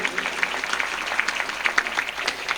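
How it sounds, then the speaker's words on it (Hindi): An audience at a village Bhagavat Katha religious gathering claps together, a continuous dense patter of many hands at moderate distance lasting the whole stretch without a break. "एक बार जोरदार ताली बजा करके"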